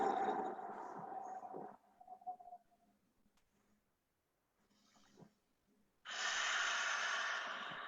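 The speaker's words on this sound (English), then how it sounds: "And usually I will end it with kindful breathing." Slow breaths during a kindful breathing exercise, with a long audible exhale, a near-silent pause, then another strong breath, close and soft.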